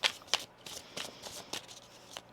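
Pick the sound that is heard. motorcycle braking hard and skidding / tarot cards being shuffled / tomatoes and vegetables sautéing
tarot cards being shuffled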